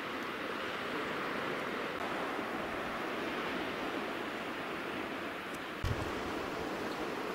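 Surf washing onto the Plage de la Mare at Saint-Cast-le-Guildo in Brittany, a steady broadband roar of breaking waves with wind, continuous and fairly distant, with a brief thump near the end.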